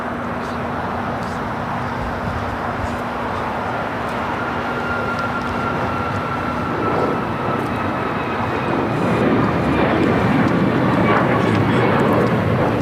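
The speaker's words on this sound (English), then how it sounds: "11:47, taking off to Seattle on a MAX 9" An Alaska Airlines Boeing 737 MAX 9 takes off at LAX, a broad, loud jet roar heard from a distance that builds steadily, with a faint steady tone beneath it. Voices can be heard faintly.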